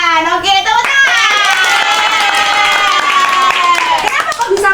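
Students in a microteaching social studies classroom clap together, quick rhythmic hand claps under a sustained vocal chant or shout from the group.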